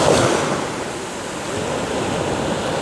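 Sea waves wash onto the beach at Dzhemete in Anapa in the early morning on a hot day. The surf hiss is steady and broadband, mixed with wind noise on the microphone, and no one speaks.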